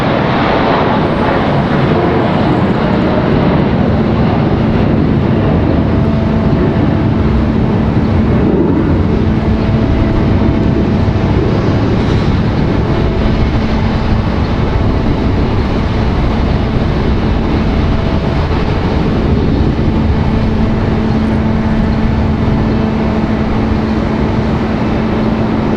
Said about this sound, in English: Another Delta connection, E175 on the move.